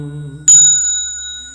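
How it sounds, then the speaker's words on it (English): A temple bell struck once during a Buddhist sutra lecture, ringing out with a bright, sustained metallic tone that lingers and slowly fades after a brief murmur of voice beforehand. "The bells sound wide"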